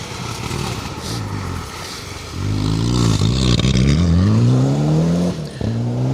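A Mitsubishi Lancer Evo 10 rally car on a forest stage at Greystoke Stages, its engine rising from a distant drone to a loud, climbing rev as it nears, with a brief lift-off before revving again.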